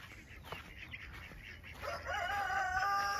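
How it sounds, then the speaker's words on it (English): A rooster crows once outdoors in a garden, a loud, drawn-out call rising in the latter half after quieter background clucks and ambient sounds. "Oh, I know, Mr. Rooster."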